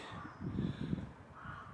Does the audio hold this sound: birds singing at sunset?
yes